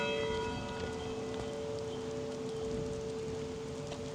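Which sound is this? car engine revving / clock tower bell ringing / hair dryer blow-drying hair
clock tower bell ringing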